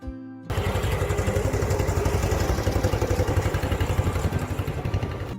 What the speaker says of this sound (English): Listen to the sound of the engine.